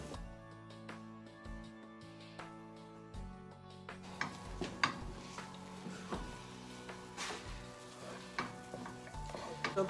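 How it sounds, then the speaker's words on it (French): Sweetened condensed milk toffee is stirred in a pan on the stove, with a soft continuous sizzle and repeated utensil scrapes and taps against the pan that grow busier partway through, close and quiet, with no talking. "je veux mes toffee un peu plus doré, donc je vais les laisser encore sur le feu tout en remuant."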